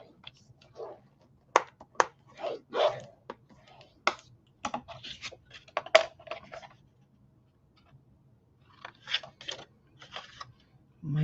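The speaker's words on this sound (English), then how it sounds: "And burnish your score line." A tool burnishes a score line on paper for a 6x8 ring binder album, making irregular short rubbing and scraping strokes in bursts with pauses, close and fairly quiet.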